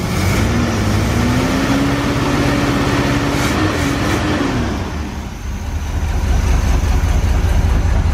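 A 1970 Corvette barn find that sat for ten years idles up close with a loud, steady low rumble, a faint exhaust leak and a slightly uneven, missing beat. The engine briefly dips, then settles back into a strong idle.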